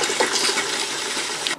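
Water rushes hard and continuously from the hot tap of a touring caravan during a drain-down of its Floë system, a loud, splashy flow lasting under two seconds before it cuts off.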